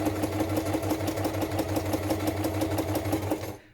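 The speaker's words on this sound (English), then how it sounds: "Now I'm going to stop with the needle down, and I'm going to run another one up the other side." A sewing machine stitches a straight seam down the middle of a journal cover, a fast, even mechanical whirr with rapid rhythmic needle beats, close and loud, stopping abruptly just before the end.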